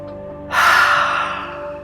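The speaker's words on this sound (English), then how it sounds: "as you breathe out, you're going to make a hissing sound to the back of the throat" A breathy hissing exhalation through the back of the throat with the mouth open, part of a yoga breathing exercise, one loud close breath out that fades over about a second.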